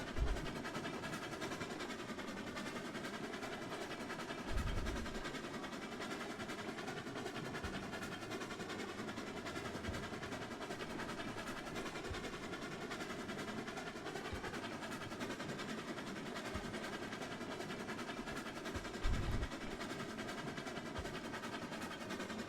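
Steady low rumble of train cars rolling along, with occasional soft thumps from the wheels and no voices.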